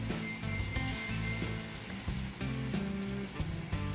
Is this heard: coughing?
no